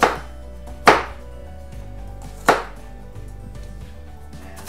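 Big garlic cloves chopped on a cutting board for homemade hot sauce, a few sharp knife strikes spaced about a second or more apart, close and crisp against a quiet background.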